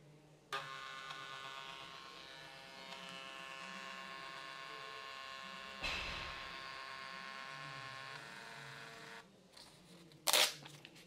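A Barbie Instan Cam kids' instant camera by Lisciani takes a selfie and prints it, a steady quiet motor whir running for several seconds, then a brief sharp click-buzz near the end.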